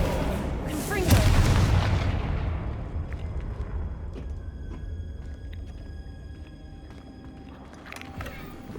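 A deep booming blast from the Confringo fire spell in the game Hogwarts Legacy erupts loudly, then rumbles and fades over several seconds.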